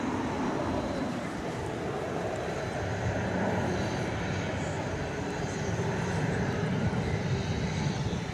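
Boeing 737-800 airliner arriving at Dallas Fort Worth airport, a steady broad jet roar that holds at a constant loud level throughout from a distance.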